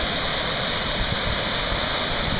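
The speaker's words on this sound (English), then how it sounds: "The waterfall." Tsusiat Falls on the West Coast Trail roars nearby, a dense, constant rush of falling water with no pauses.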